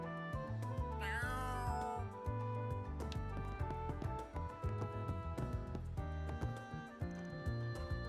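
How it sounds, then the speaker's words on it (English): In the game Trails through Daybreak, the cafe's mascot cat lets out a short meow amid background game music, with no talking over it. "He can be a peculiar feline, but he means well, and serves as the mascot of our cafe"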